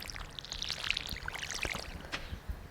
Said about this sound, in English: Oh, and I need to water.